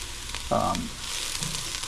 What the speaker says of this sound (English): I'm going to keep stirring it, and I'm going to let it toast in here for probably 2 to 3 minutes.